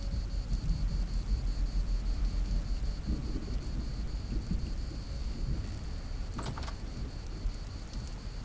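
Steady rain and rumbling thunder of a temporal storm in the survival game Vintage Story hold at a moderate level throughout, with a brief sharp crackle near the end.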